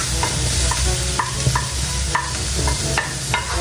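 Onion added to garlic sautéing in a pan, a loud close sizzle with repeated rhythmic scrapes and clinks of a spatula stirring.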